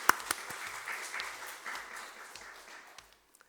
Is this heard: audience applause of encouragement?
yes